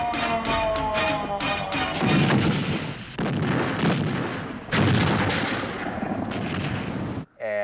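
Loud booming explosions and heavy blasts crash in succession after a brief tonal opening, with dense rumbling debris noise, close and forceful throughout.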